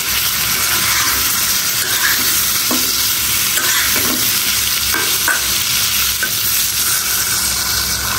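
Eggs frying in a pan with potatoes, giving a steady broad sizzle with a few faint scrapes and stirs, continuous and fairly close, with no talking.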